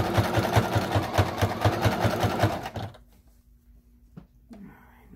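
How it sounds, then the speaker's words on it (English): A sewing machine stitches a fleece hat in a fast, even run of needle clatter for about three seconds, close and loud, then stops, leaving near silence with a soft click. "I'm sewing right around."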